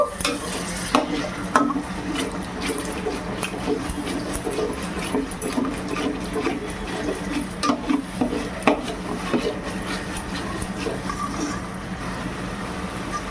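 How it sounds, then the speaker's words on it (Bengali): Spice masala with whisked sour yogurt being sautéed, with a spoon scraping and knocking against the pan in an uneven rhythm over a low sizzle, near and fairly loud, with no speech. "একটু মশলাটা কষিয়ে নেব।"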